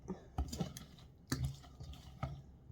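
Garlic and herb marinade is poured over lamb shanks in a slow cooker, making soft wet glugs and drips with a few louder splashy spots, close and fairly quiet.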